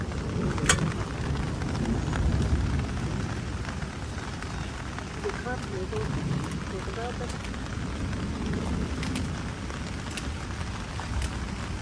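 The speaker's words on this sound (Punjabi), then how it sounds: "ਮੀਂਹ ਪੈਂਦਾ ਬਹੁਤ।" Heavy rain pours steadily outdoors during a thunderstorm with lightning while greens are being picked, a dense continuous wash with a few sharper drop hits and voices now and then.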